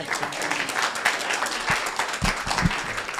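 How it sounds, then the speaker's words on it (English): Audience clapping at a leadership talk event, a steady wash of hand claps lasting throughout at moderate loudness, with a few sharper close claps standing out near the end. "Let's give Pius a good clap."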